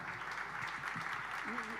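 Brief applause from an audience at a poetry event as first prize is announced, steady clapping under a voice speaking over it.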